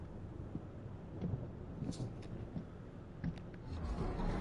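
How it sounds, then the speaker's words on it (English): A thunderstorm in the Train Sim World 5 video game, a continuous deep rumble of rolling thunder with rain hiss and a few brief crackles, steady and moderately loud throughout. "I hear a thunderstorm in this scenario."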